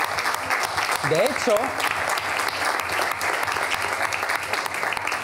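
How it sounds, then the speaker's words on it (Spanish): An audience applauding a woman called onto the stage during a talk, steady dense clapping throughout, with a voice speaking briefly over it. "otro aplauso para Mar."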